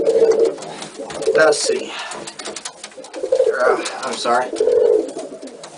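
Racing pigeons coo in low, repeated murmurs around a loft, running through most of the stretch while a person talks over them close by.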